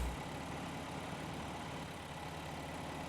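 A tractor engine in Farming Simulator 15 idles with a steady low, rumbling drone, moderately quiet and unbroken, with no other sounds.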